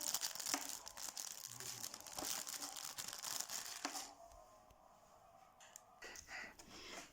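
Plastic toy packaging crinkles and rustles up close in quick, irregular handfuls, with a brief quieter stretch in the middle before more crackling resumes; the sound is faint overall.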